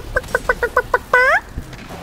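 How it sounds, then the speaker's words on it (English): A video game chicken clucks in a quick series of about seven sharp, evenly spaced clucks, then lets out one longer rising squawk, loud and close with no talk over it. "Chicken!"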